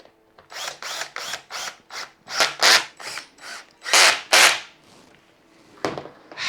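Bolts on an ergonomic office chair are tightened with a tool that makes a series of close, rhythmic ratcheting rasps, about a dozen strokes rising and falling in loudness.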